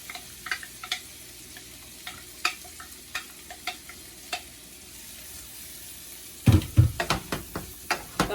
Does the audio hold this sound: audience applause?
no